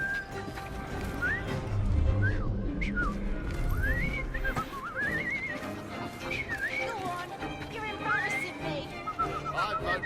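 A character in Assassin's Creed Syndicate whistles a wavering tune of rising and falling notes over busy Victorian London street ambience, with horses, hoofbeats and background chatter.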